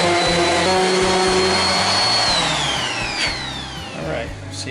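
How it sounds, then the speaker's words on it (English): Power sander working window trim wood, a steady motor whine with shifting pitch and rough grinding rumble, close and continuous, with faint pitch sweeps as the tool loads and unloads. "Get our sander."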